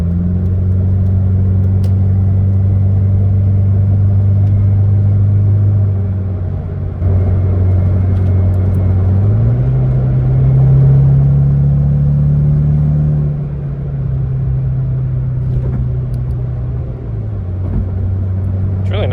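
The engine of a car called Project Eclipse drones steadily while driving, with a strong low hum that rises in pitch as it accelerates, then settles back, loud and close throughout.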